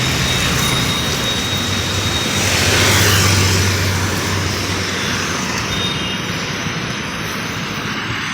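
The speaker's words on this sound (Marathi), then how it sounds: "तिथं कसलं ट्रॅफिक" Loud, dense roadway traffic roars steadily on a crowded street where road works are under way, a continuous close wash of engines with a brief swell midway.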